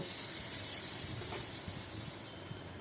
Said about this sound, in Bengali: টুকরো করে কেটে রাখা আলুটা প্রথমে ভেজে নেব।